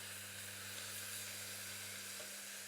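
Finely sliced onions soften in a hot pan for a Panang curry, giving a steady, moderately quiet sizzle with soft hiss and a low constant hum underneath, no voices present.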